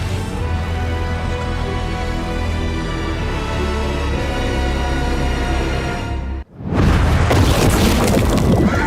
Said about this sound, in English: Golden Boy decided to self-detonate, except in his case, this caused him to explode